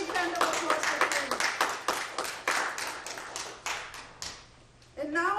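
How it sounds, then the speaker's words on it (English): Scattered applause for an award recipient at a virtual fundraiser, a few nearby hands clapping in an uneven rhythm that thins out, before a voice speaks briefly at the end. "A big round of applause for"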